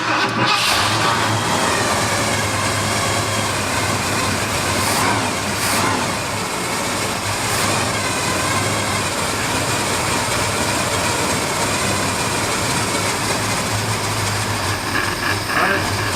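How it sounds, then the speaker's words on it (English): A Ford F-150 truck engine, just repaired after flood damage, runs steadily and loudly up close with a constant mid-range drone and brief revs. "My truck started."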